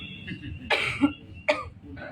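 A man with a lingering cough after returning from the Hajj pilgrimage gives a few sharp, dry coughs, two stronger bursts separated by a short pause. They are close and moderately loud over a low background hum.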